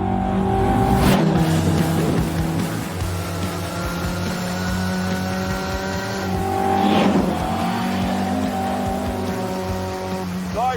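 A Mark 1 Lotus Cortina races around Cadwell Park on a sunny day, its engine loud and close with strong harmonic revs that rise and fall through gear changes, plus a brief sharp burst of tyre noise near the start.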